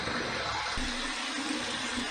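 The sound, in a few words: warm and cold water rinse after a wet shave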